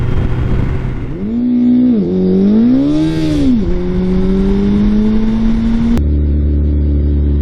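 A Suzuki Hayabusa motorcycle doing a burnout: loud, close engine revs rise and fall in pitch, then hold at a high, strained whine with a hiss of tyre spin before the sound cuts abruptly to a lower rumble.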